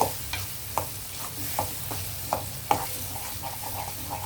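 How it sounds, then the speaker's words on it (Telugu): Brinjal chutney fries in a hot oil tempering, with a steady sizzle broken by rhythmic stirring clacks roughly every half second, close and moderately loud. "ఒక టూ మినిట్స్ ఇలాగా ఆయిల్లో వేగనిస్తే సరిపోతుంది తాలింపులోను"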